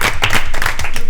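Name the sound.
audience applauding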